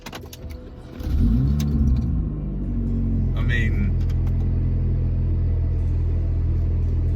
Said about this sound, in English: I'm certainly gonna miss the startup sound of this car